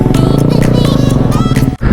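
A Kawasaki Z900 motorcycle fitted with a new aftermarket exhaust idles and revs close by, a loud, rapid throbbing burble with a steady pulsing rhythm that dips briefly near the end.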